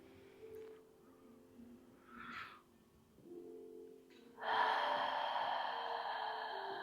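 Deep breathing during a Pilates class for tight hips and spine: a short, soft breath, then a long, loud, airy breath close to the mic that fills the last seconds. No talk.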